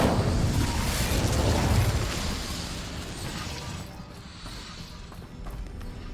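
A roaring, crackling burst of fire from the Incendio spell in Hogwarts Legacy, loud and dense at first, then thinning into a softer, steady rumble.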